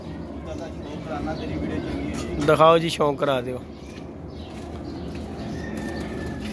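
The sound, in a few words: pigeons cooing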